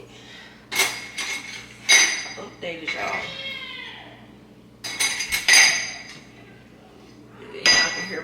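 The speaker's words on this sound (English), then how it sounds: "I'm just putting up these dishes out of the dishwasher" Dishes unloaded from a dishwasher and put away, with bursts of clinking glass, ceramic and cutlery at irregular intervals, close by, and a brief voice speaking between them.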